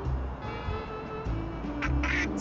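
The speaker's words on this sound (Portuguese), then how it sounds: "Pato." A duck quacks in the video game Little Kitty, Big City, a few short nasal calls over steady background game music at moderate loudness.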